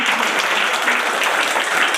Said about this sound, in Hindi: एक बार फिर से तालियां बजा दो अपने लिए